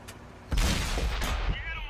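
An E50M tank cannon in a tank battle game fires with a heavy boom and rumbling tail, with a fainter second report soon after and a distant thump before it.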